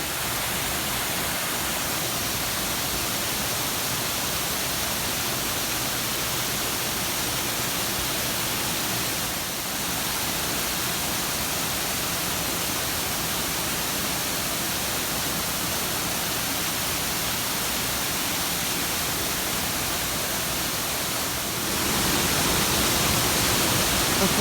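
Arizona Falls pours steadily nearby, a dense, constant broadband rush of falling water that fills the scene without pause and swells slightly louder toward the end, with no talking over it.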